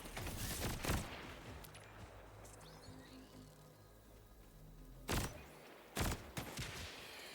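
Borderlands 4 gunfire: a loud crack opens, then a quieter stretch with faint tonal game sounds, and two more sharp bursts follow near the end.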